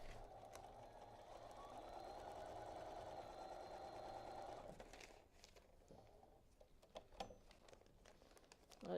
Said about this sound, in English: we're going to sew on line 3.